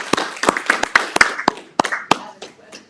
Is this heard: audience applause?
yes